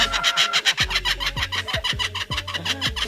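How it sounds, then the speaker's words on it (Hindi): A bird gives a loud, rhythmic, human-like laughing call, close and clear, with repeated cackling pulses sliding downward in pitch. "ये 5 तरह की बहुत तेज आवाज निकाल सकता है, जिसमें से एक इंसानों की तरह जोर जोर से हंसने की आवाज भी है"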